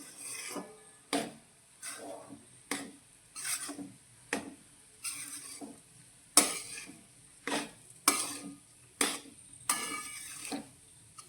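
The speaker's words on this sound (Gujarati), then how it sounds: "અત્યારે આપણે થોડા ઓછા ઘીમાં જ આ લોટને શેકવાનો છે" Flour being roasted in ghee in a pan for mohanthal, stirred with steady, rhythmic scraping strokes roughly once a second, close and fairly quiet, with no other sounds between strokes.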